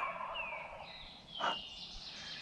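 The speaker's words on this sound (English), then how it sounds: "he's right out in front of me, gobbling away" A wild turkey gobbler on public land gobbling out in front of the listener, a loud rattling gobble with a sharp burst in the middle, heard clearly over outdoor background with no talk.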